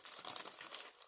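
A plastic bag filled with thick vintage book ephemera crinkles as it is handled, a soft close crackling lasting about a second.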